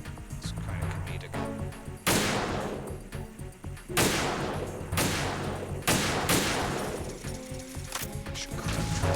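PSG1 sniper rifle shots in the video game Metal Gear Solid 2 boom out as several loud, separate reports spaced a second or two apart over a continuous game soundtrack.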